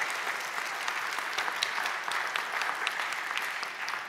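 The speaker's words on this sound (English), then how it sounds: "And a big round of applause." A church congregation applauds steadily, dense even clapping that holds at a moderate level throughout, with no voices over it.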